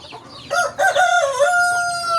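Backyard chickens, some with wounds, give a short burst of loud, close, harmonic clucking and crowing-like calls lasting about two seconds.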